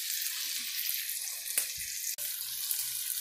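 Sausage fries in a pan with a steady, hissing sizzle at moderate volume, close up, broken by a couple of brief clicks or taps midway, with no talking.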